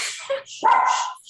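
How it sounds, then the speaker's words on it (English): A pet dog barks indoors during a vegan cooking workshop, giving a short whiny yip followed by a louder, drawn-out bark, close and sharp. "sorry, that's my dog."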